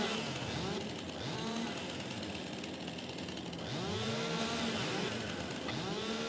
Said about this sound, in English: I need to mulch that down. We're using the chainsaw.